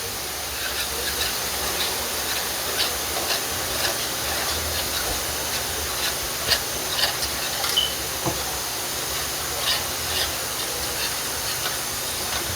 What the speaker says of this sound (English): So I'm going to let that saute for a little bit